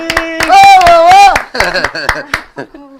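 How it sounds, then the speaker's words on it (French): Scattered hand claps from an audience at a showfight event ring out in sharp, uneven bursts beneath a loud, close voice that keeps talking over them. "On l'applaudit, s'il vous plaît, Maëlys."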